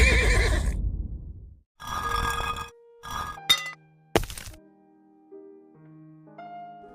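A horse whinnies and grunts in a video game, with several neighs and snorts separated by pauses, alongside short clinking game sounds toward the end.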